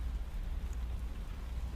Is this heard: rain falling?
yes